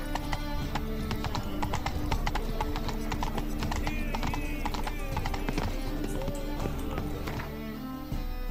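The horse in The Witcher 3 gallops, its hooves clip-clopping quickly and steadily up close with a whinny partway through, over game ambience and music.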